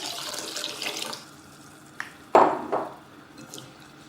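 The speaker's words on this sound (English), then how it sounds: "Into it I'll be adding some water and wash it nicely" Running water from a tap fades, then splashing and swishing as raw rice is rinsed in a bowl for appam, close and intermittent.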